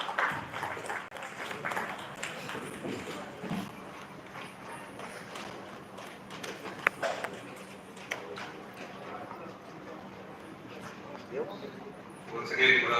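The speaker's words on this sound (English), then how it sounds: "Please give a big round of applause." Audience applause at an academia-industry pharma conference, a broad crackling wash of many hands clapping that continues steadily through the whole stretch at moderate loudness, with some voices mixed in.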